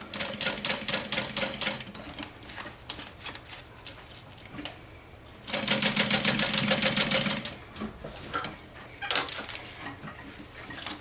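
A sewing machine stitches down the strap of a hip bag, running in fast rhythmic bursts with short pauses between passes, the longest and loudest burst near the middle, sounding close and clear with no talking.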